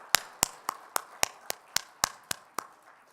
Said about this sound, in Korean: 찬양과 기도와 예배를 받으신 하나님께 다시 한번 영광의 박수 올려드릴까요?